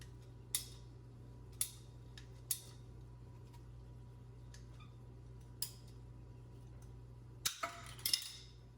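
Cutting 1 inch PVC pipe gives sharp, isolated clicks and snaps, roughly one every second or two, then a quick cluster of cuts near the end, all over a low steady hum.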